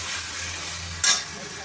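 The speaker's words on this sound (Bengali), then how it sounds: "যতক্ষণ না মশলা থেকে আদার কাঁচা গন্ধটা চলে যাচ্ছে, ততক্ষণ আমি ভালোভাবে কষিয়ে নেব।" Spiced masala for a hot chicken curry being sautéed and stirred in a pan, a steady soft sizzle with a brief louder scrape of stirring midway; no talking.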